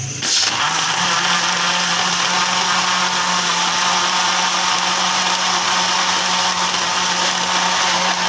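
An electric blender whirs through cucumber, mint and lemon juice for a drink, starting with a sharp jolt and then settling into a loud, steady, high-pitched motor whine that runs unbroken and close throughout, with no voices.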